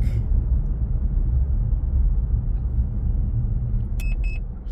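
Dense highway traffic during an Easter Sunday drive, heard from inside a car as a steady low rumble of engines and road noise, with a brief faint beep near the end.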